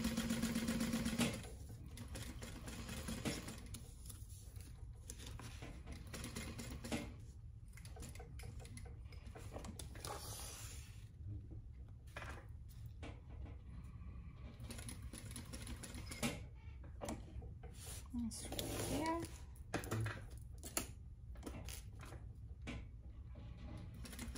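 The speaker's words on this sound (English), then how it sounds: "Just gonna go and I do stitch around the whole box like I said." A sewing machine stitches around a box seam on a crossbody bag at a 2.5 stitch length, a steady rapid ticking hum close by with a few brief pauses and slowdowns.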